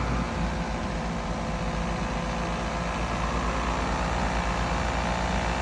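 A 2008 Toyota Corolla engine idles while warming up, a steady low continuous rumble with no changes in pitch or rhythm, no voices.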